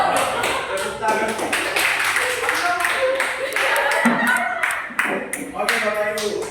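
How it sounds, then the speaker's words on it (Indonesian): A room full of teachers at a junior high school staff session in Wamena, Indonesia, clap and cheer, scattered claps and voices mixing together, lively and close. "Tepuk tangan."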